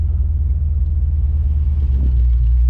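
A 1993 Ford Mustang 5.0 Fox body with an aftermarket exhaust idles close by, a loud, deep, steady rumble with an even lumpy pulse and a slight rise near the end.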